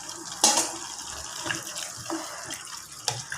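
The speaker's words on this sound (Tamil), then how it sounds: "நான் கொஞ்சம் தண்ணி ஊற்றிக்கிறேன்." Water runs and splashes steadily into a pot of thick dried salted fish and broad bean curry for a few seconds, with a brief louder gush near the start and faint clinks.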